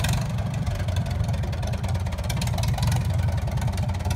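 A 1954 Farmall Super M tractor engine runs loud and close, a steady low chugging idle with a rough, knocking beat throughout.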